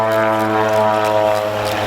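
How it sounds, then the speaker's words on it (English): A small propeller plane circles over Algonquin Park, its engine drone steady and fairly loud throughout, a sustained harmonic buzz with no talk over it. "That's the park plane."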